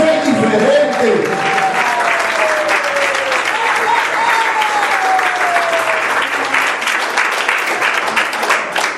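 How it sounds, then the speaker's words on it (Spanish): Loud sustained applause from a church congregation, dense continuous clapping for the whole stretch with voices and a faint sustained tone underneath. "Ahora un aplauso, no sea indiferente."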